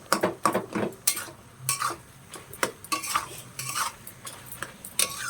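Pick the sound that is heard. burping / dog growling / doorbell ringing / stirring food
stirring food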